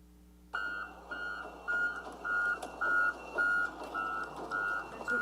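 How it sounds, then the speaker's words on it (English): A John Deere wheeled loader sounds its backup alarm, a steady run of evenly spaced reversing beeps over a low engine hum, moderately loud and heard alone. "The backup beeps from the John Deere loader are at 90 to 95 decibels"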